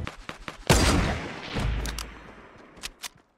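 Gunfire in a video game shootout, with one loud shot and a long ringing tail, then a few sharp, quieter shots trailing off near the end.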